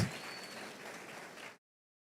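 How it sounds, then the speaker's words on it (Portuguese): A church congregation applauding visiting guests at an evening service, a short burst of dense, moderately distant clapping that fades out after about a second and a half. "Igreja, vamos dar um forte aplauso a esses queridos visitantes."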